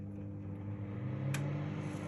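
Toshiba microwave oven running while heating water on a plate, giving a steady low hum with faint tonal drone, close and fairly quiet, with no talk.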